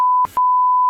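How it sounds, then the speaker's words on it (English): A censor beep: a steady, loud electronic tone that cuts out briefly and then resumes, playing alone with no talk. "now that I know how to do the beep, I enjoy using it"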